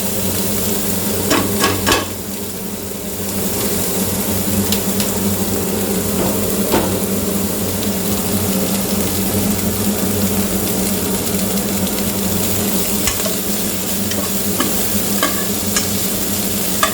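Onions frying in oil in a pan for a methi chicken dish, a steady broad sizzle with occasional utensil clinks and stirring scrapes, close and continuous with no talking.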